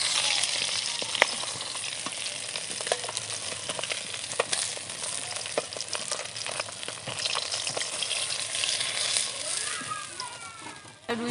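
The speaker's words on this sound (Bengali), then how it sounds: "মাছ ভাজা হয়ে গেছে, তুলে নেব।" Pieces of rohu fish fry in oil in a pan, making a steady, close sizzle with scattered crackles and light stirring clicks that run throughout.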